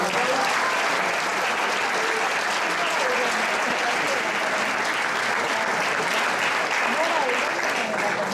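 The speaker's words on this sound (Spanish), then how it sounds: "Un aplauso para Alejandro." Sustained audience applause fills a book presentation hall, a dense, steady wash of many hands clapping at close range with no pauses, welcoming an economist author of books on the dollar and Argentine politics.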